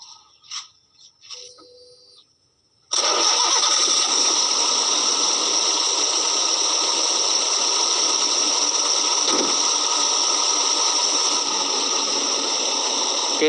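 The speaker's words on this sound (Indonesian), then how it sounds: "Lalu yang selanjutnya kita hidupkan mesin sampai jarum dari temperatur itu" A Daihatsu Gran Max being checked for engine overheating starts up after a few quiet knocks, then settles into a steady, loud, unchanging running drone that fills the rest of the stretch.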